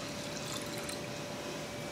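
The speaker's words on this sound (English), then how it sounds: "It's 2 cups of almond milk being poured in." Two cups of almond milk pour into a glass jar holding chia seeds, a continuous, even liquid rush with a faint steady tone, close and uninterrupted, without speech.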